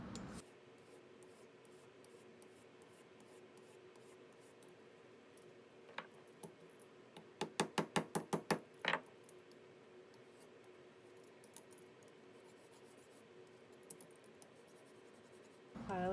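A hand file working metal around a flush rivet, mostly quiet scraping with a quick run of about six sharp, rhythmic rasping strokes near the middle, close and fairly soft, with no talking.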